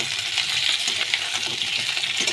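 Potatoes drop into a hot pan for Bengali egg curry (dim kosha), bringing a steady, close hiss of sizzling oil with light scraping, and no talking.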